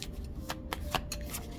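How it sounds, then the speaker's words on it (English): Tarot cards are shuffled by hand in a series of quick crisp riffles and slaps, close and clear with short pauses between bursts and no talking. "I kind of want to shuffle one more of these."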